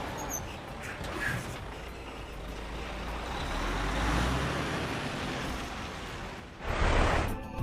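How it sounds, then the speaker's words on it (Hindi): A heavy truck fitted with an automatic emergency braking system rumbles along a road amid steady traffic noise, building in loudness, then a sharp hissing burst near the end, like an air brake releasing. "इस ट्रक के अंदर दिए गए इमरजेंसी ब्रेक इतने जबरदस्त हैं कि ब्रेक लगते ही ट्रक बिल्कुल जाम हो जाता है"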